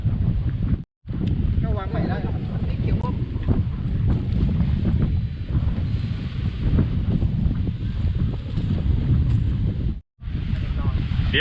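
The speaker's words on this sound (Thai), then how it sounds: "แต่ว่าลมมันแรงครับ" Strong wind roars steadily and loudly into the microphone outdoors on a hillside climbing route in Chonburi, with brief cutouts and a faint voice underneath.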